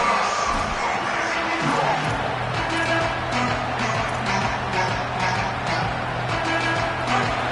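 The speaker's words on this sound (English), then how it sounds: "They challenge this crowd to bring the energy, and I'd say they're doing that." Crowd cheering at an NCAA college football stadium, a dense, loud, sustained roar of many voices filling the whole stretch without letup.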